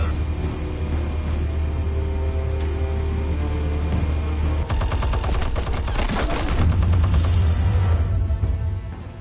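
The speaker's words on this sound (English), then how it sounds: "Got a Gatling gun in that bitch. Explosives armed. Fire when ready." Gatling gun fire in Batman: The Telltale Series, a loud, rapid, continuous stream of shots over a deep engine rumble, breaking into a dense, rattling barrage midway before tapering off.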